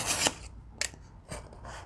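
Junk journal paper pages get their top edge trimmed, giving three or four close, dry rasping cuts in quick succession with short pauses between them and no voices.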